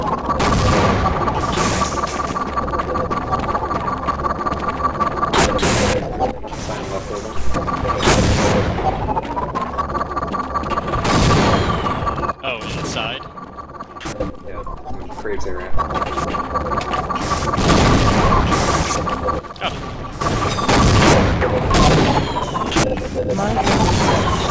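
A rocket pistol firing in the Half-Life mod Science and Industry, amid dense, loud gunfire and booming blasts that run almost nonstop, with brief lulls and player voices mixed in.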